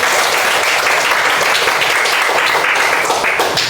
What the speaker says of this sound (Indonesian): beri aplaus dulu untuk itu